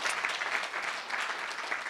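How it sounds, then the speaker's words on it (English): An audience claps steadily for debate speakers after a forum discussion, with moderately close, even applause running throughout and no voices on top. "I think we should give them a round of applause"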